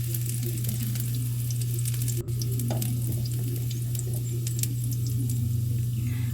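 Garlic fries in hot cooking oil for a pork rib and vegetable stir fry, a continuous crackling sizzle with light stirring clinks and a steady low hum underneath, close and without voices.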